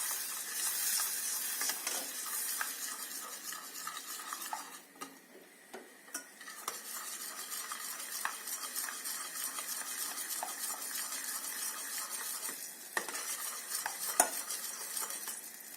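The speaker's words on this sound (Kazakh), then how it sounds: "чай қасықпенен міне саламыз да араластырамыз" A teaspoon stirs honey cake mixture in a pot on a gas stove, soft steady scraping and light bubbling sizzle running continuously, close and quiet, no talking.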